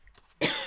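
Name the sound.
cough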